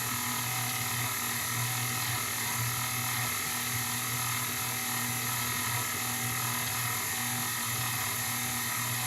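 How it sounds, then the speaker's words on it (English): Steady, loud motor whine of an electric stand mixer kneading bread dough at raised speed, a continuous droning hum with no pauses. "once that gets into one ball, that's when we're going to turn up our mixer"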